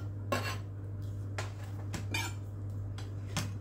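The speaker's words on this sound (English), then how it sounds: "Dump the tomatoes in here and the half onion." Chopped tomatoes and half an onion tipped into a large bowl for salsa, giving a few scattered clattering knocks and scrapes against the dish over a steady low hum, with no talking.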